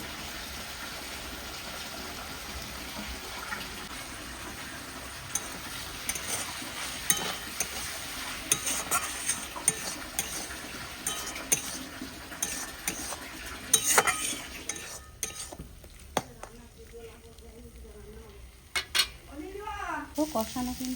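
A ginger, garlic, tomato and onion paste with chili powder and turmeric fries in a pan, crackling and sizzling under frequent scraping and clinking of a spoon stirring it, the frying fading near the end while a voice is faintly heard.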